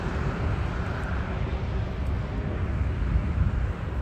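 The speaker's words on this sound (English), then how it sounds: "We have here a Boeing 737." A Boeing 737 jet airliner at Miami airport produces a steady, broad engine roar that holds at an even level without letting up, with no one speaking.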